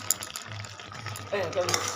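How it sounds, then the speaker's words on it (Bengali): A spice paste of fried cumin and coriander with a little sugar is stirred in a hot pan, giving soft scraping and faint sizzling under light background noise over a couple of seconds. "দু মিনিট মতো নেড়ে নেবো"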